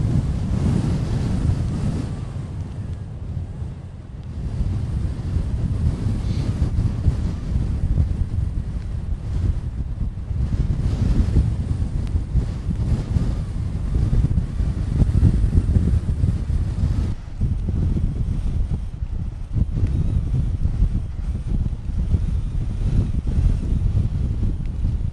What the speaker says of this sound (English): Bearing in mind, obviously the wind's coming straight against us